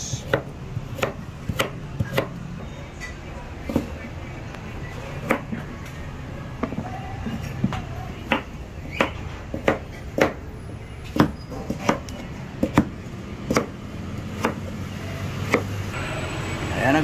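Carrots are chopped on a cutting board with a knife, a string of crisp, evenly spaced thuds repeating close up for many seconds, with faint room noise between strikes.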